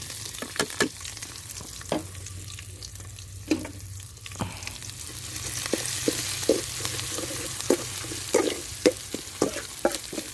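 Curry paste stir-fried in hot vegetable oil in a pan for a northern Thai curry, a steady sizzle with frequent sharp scrapes and taps of a spatula, close and moderately loud, no voices.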